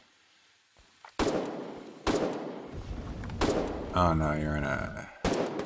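Gunfire in the video game Foxhole, several sharp loud blasts separated by a second or so, with a stretch of rapid rattling fire between them, under a player talking briefly.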